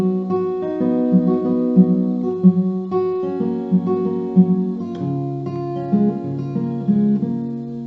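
Acoustic guitar strums a full barre-chord verse pattern from a song, steady rhythmic chords ringing close and clear with no talking.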